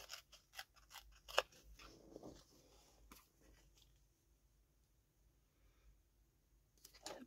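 Scissors snip paper for a handmade lantern, a quick run of sharp close clicks and cuts at the start, then a quiet pause before a few more snips at the end.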